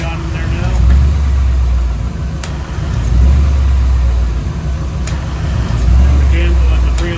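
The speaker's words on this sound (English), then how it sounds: "when that has enough pressure in the system, you'll see the AC clutch start to cycle" A V8-swapped custom S10 idles steadily while its AC compressor clutch cycles during a Freon recharge, the engine note swelling and dipping in a few slow surges, with a voice talking over it.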